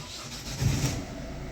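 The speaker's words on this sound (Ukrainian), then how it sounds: "Так, пробуємо заводимо автомобіль." A Ford Focus with a clogged catalytic converter starting up, a brief close engine crank that swells into a rough running rumble over a second and a half, with no voices.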